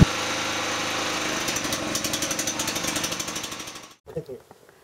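A biogas-fuelled electric generator engine runs loud and close at a rough, steady chugging rate, then cuts out abruptly near the end, leaving a few faint clunks.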